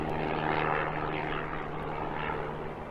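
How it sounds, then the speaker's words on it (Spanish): A propeller airplane drones steadily as it comes in for a forced landing on a muddy racetrack, with a continuous engine hum and broad rushing noise and no voices. "obligan a un aterrizaje forzoso sobre un embarrado circuito de carreras cuadreras"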